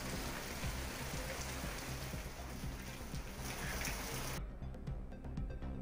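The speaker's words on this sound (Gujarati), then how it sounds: "સાંઘાણી સહિત આસપાસના ગામોમાં વરસાદ વરસ્યો" Steady rain falls over villages around Sanghani in Gujarat, a dense, continuous hiss that stays loud throughout, with its brighter upper edge cutting away near the end.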